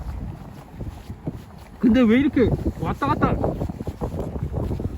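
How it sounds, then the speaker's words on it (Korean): Strong gusty wind blows outdoors at a field where a small RC airplane is flown. Constant low rumbling buffets the microphone while people talk over it. "바람이 세가지고"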